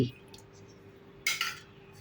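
A utensil stirs rasam powder into rasam in a pot, giving two short, distinct metallic clinks against quiet near-silence after a brief low thump at the start.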